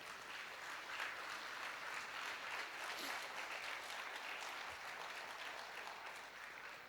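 An audience gives sustained applause for a children's dance performance at a stage event, a thick, even roar of many hands clapping for several seconds, fairly distant and without speech.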